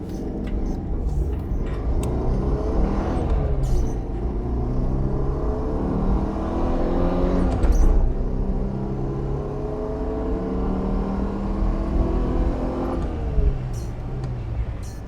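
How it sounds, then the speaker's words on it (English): A 1986 Citroen GSA with a 1.3-litre, 66 hp engine accelerates hard from inside the cabin, the engine note climbing through the gears in rising sweeps with brief dips at each shift. "we can go straight for an acceleration test because we're straight into a 60 limit here."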